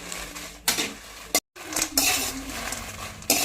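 Dried red chillies, stems removed, tossed and scraped in a metal pan while dry roasting, giving intermittent clinks and rattling scrapes at close range with a brief silent gap.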